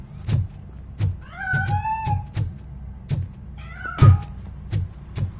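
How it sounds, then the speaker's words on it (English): Cat meowing in the video game RoboCop: Rogue City: two drawn-out, wavering meows, the first near the middle and the second later, set among repeated dull thumps and footstep-like knocks. "That cat must be hiding inside."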